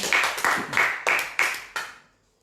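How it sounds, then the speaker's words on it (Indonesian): A church congregation claps together in a steady rhythm, six sharp, evenly spaced bursts of applause that ring close and then stop, leaving a brief silence. "Kasih tepuk tangan buat Tuhan kita"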